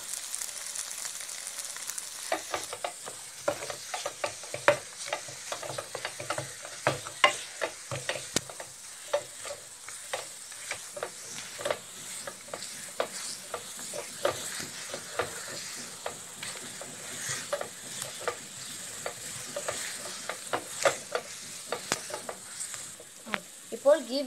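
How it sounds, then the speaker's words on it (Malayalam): Bread halwa with raisins and nuts being stirred in ghee over a low flame, a soft continuous sizzle under frequent irregular scrapes and taps of a spoon against the pan, close and moderately quiet, no talking. "ഇനി ഫ്ലെയിം ലോ ചെയ്ത് ഗീ ഇതിൽ നിന്ന് ഇറങ്ങി വരുന്നത് വരെ ഇളക്കിക്കൊണ്ടേയിരിക്കാം"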